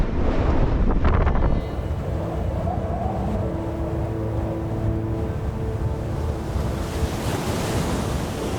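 Storm wind sweeps over ocean surf on the west side of the Faroe Islands: a loud, continuous roar of breaking waves and gusting wind buffeting the microphone, with no voices.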